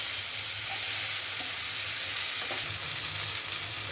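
Potatoes and tomatoes fry in a pan with a steady, close hissing sizzle and a few faint stirring taps.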